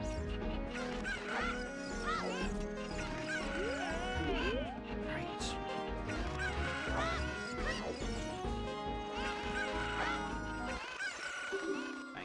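A cartoon goose honks repeatedly in a video game, its squawky calls rising and falling over busy game music and sound effects, with a crash-like clatter near the end.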